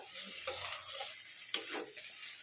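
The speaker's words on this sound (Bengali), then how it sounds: "রেডি হয়ে গেল আমার খুব সহজ পদ্ধতিতে আলু চিংড়ি ভাজা" Potatoes and prawns frying in a pan sizzle steadily, with scraping stirs and a couple of clinks from a utensil, close and fairly quiet with no talk.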